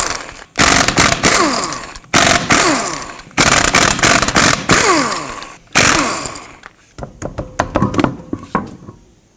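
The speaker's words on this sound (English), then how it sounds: "Take a 21mm socket and remove all 5 of your lug nuts" An impact wrench spins off the lug nuts with a 21mm socket on a 2009-2015 Toyota Prius, several loud rattling bursts in sequence separated by short pauses, then lighter clinks as the nuts come free.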